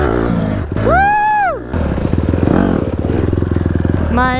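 Motorcycle engine revving hard through repeated wheelie attempts, a rising and falling whine followed by a steady, loud throbbing idle-like chug close by, with a brief voice shout near the start.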